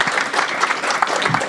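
Audience at a board meeting applauds a student being recognized, a dense, steady patter of clapping over a short stretch with faint voices mixed in.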